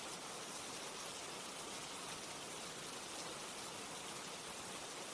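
Steady rain falls in a dense, even hiss with no breaks, soft and constant, with no voices.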